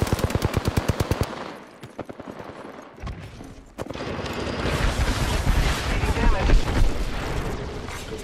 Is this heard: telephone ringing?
no